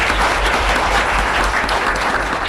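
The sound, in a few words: audience applause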